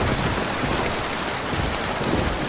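Heavy rain pours steadily outside an abandoned shop-house where a motorbike taxi rider takes shelter, a dense continuous hiss with no gaps and no voices.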